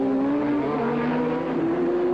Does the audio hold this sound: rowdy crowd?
no